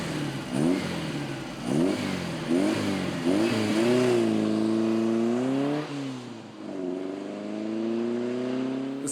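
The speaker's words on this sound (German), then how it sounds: "Gut versteckt im Käferheck offenbart sich die Power erst beim Anlassen." A classic Beetle-based car's rear-mounted engine cranks over several times, catches and revs up, then settles into a steady rising and falling idle with a couple of blips, loud and close.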